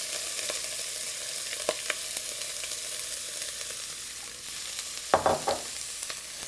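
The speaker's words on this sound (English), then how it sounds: "Then directly to it, I'm going to add my onions and peppers." Onions and peppers frying in olive oil in a hot pan, a steady close sizzle throughout, with a few clatters of stirring near the end.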